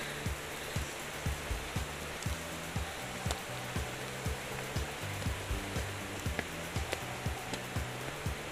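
Heavy rain at a Gurudwara in Mechuka, Arunachal Pradesh: a steady hissing downpour with regular dripping or drumming thuds on a nearby surface, continuous and fairly soft, with no voices.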